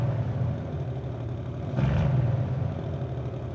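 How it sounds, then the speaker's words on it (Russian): A new Bentley Continental GT engine rumbles at idle close by in sport mode, with a brief swell around midway as the throttle is blipped, then drops back to a low growl. "Проверим работу выхлопа."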